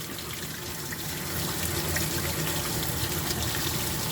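Water gushes steadily from a pond bottom drain being flushed of a few days' sediment, a loud continuous rushing flow that swells slightly after the first second.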